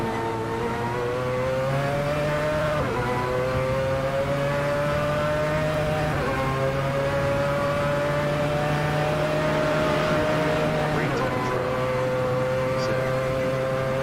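The Mazda 787B race car's engine drones loudly and continuously in Assetto Corsa, a steady high-pitched whine that dips briefly at gear changes and then climbs again, close and sustained for the whole stretch.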